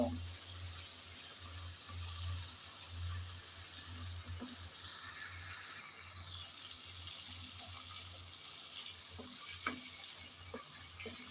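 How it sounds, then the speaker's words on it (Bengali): Dried fish and shrimp frying in oil with spices, a steady close sizzle with occasional stirring scrapes and ticks, constant and moderately quiet, with a low hum underneath and no talking. "প্রথমে শুটকি আর চিংড়ি তেলের মধ্যে কষিয়ে নিতে হবে এভাবে মশলা সহ"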